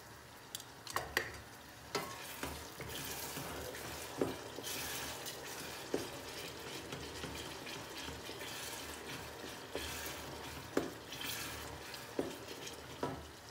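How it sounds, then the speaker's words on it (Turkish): Onions and eggs frying together on a stone atop a wood stove: a soft, continuous sizzle with occasional scraping and stirring clicks, faint and close, with no talking. "Soğanım da güzelce kavruluyor."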